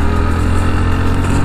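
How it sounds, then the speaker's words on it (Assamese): A 2021 Bajaj Pulsar NS 125 motorcycle engine runs steadily while riding, a loud continuous drone with rushing wind noise and no talking. "আমি এটা গৈ আছোঁ নতুন NS125 একদম পুৰা মজাৰ টেষ্টিং কৰিবৰ কাৰণে"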